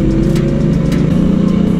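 A car engine drones loudly and steadily from inside the vehicle, a low, even hum with no clear rev bursts.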